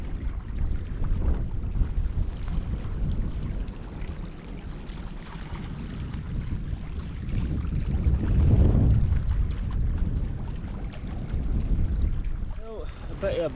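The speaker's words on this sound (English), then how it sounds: "Bit of a blustery night." Blustery night wind buffets the microphone beside Loch Laggan, a steady low roar that swells loudest around the middle before easing, with no voices present.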